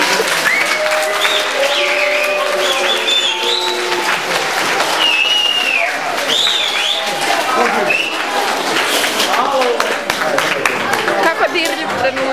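An audience at a poetry festival claps steadily, with dense applause mixed with excited voices and a few shouts and cheers, lively and close throughout.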